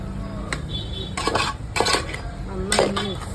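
Curd being stirred into Kerala-style avial in a cooking pot gives several loud metallic clinks and scrapes of a spoon against the pot, close and irregular, over a low steady background hum.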